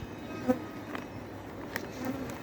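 Honeybees at a hive in December hum steadily in a low, continuous drone close by, with occasional louder individual buzzes passing near.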